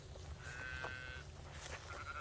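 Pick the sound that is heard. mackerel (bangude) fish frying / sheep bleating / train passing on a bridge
sheep bleating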